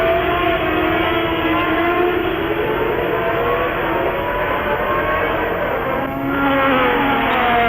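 1982 Formula 1 cars, two Ferraris closely following a Renault, race past with a continuous high-pitched engine wail that rises and shifts in pitch, loud and steady throughout.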